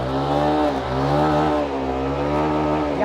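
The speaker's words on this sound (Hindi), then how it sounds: "स्कूटी हमारी जो है इंजन इसका स्टार्ट है बट एक्सलेशन पे टायर नहीं घूम रहा है" A scooter with a CVT runs and revs while its rear tire stays still, making a loud, continuous engine drone whose pitch rises and dips through the rev.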